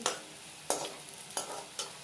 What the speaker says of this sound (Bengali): আমি এখন তেলে ভাজছি